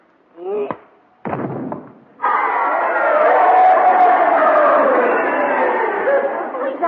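A radio-show crowd watching a staged grudge fight cheers loudly, first in two short bursts and then in a sustained, dense roar of many voices.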